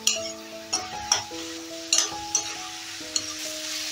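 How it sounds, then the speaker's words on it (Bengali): A cumin and coriander spice paste for aloo dum is stirred in a pan, with scattered metallic clinks and scrapes of the spoon over a faint sizzle and soft background music. "যতক্ষণ ওই জিরে ধনের কাঁচা গন্ধটা না চলে যায় ততক্ষণ একটু কষবো"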